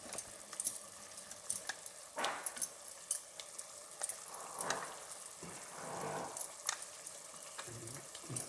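Fish curry being stirred in a pan, with tamarind water just added: scattered scraping and clinking strokes over a soft, steady simmering hiss, moderately close and at a low level, with no talk.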